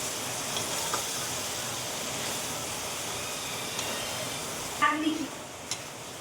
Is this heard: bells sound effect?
no